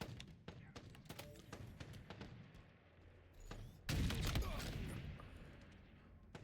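Gunfire from a sniper and other weapons in Halo, heard as a string of sharp cracks and thumps followed by a louder burst of blasts, mixed with game noise.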